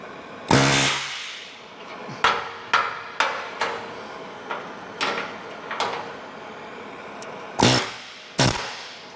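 A hand hammer strikes a heated rivet on a 1932 Ford roadster frame about ten times in irregular bursts. Each blow is a sharp, ringing metal impact, close and loud, with no talking.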